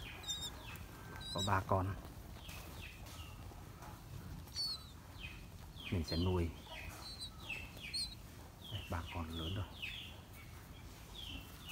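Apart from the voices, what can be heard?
brown starling (myna) chicks calling after being taken from nest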